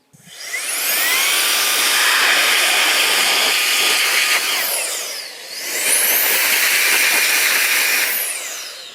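A loud hissing blast of compressed air from a handheld air blower runs steadily, dips briefly in the middle, then resumes, cleaning a vacuum cleaner filter.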